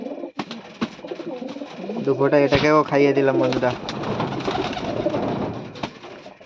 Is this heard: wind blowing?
no